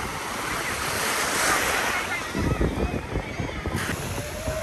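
Surf rolls onto a crowded Japanese beach of dark volcanic sand, with waves washing in under strong wind buffeting the microphone and a louder churning rush of water in the second half.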